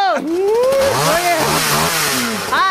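A voice imitates a motorcycle being started with a key and revved, producing rising and falling whining engine-like tones that swell and dip throughout, on a comedy stage show.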